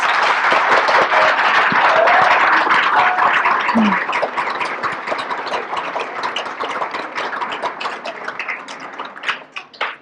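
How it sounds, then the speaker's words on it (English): A crowd at a young people's awards ceremony claps loudly and continuously for young award winners, a dense sustained applause that gradually thins and softens toward the end. "So I'd just like to give another round of applause to all those."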